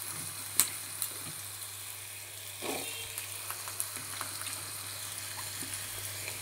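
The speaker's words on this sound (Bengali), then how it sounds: "দেখো, আলুগুলো দিয়ে দিলাম ভাজার জন্য।" Diced potatoes fry in hot oil in a kitchen pan, a soft steady sizzle with a few sharp clinks and stirring scrapes, faint and close, with no talk.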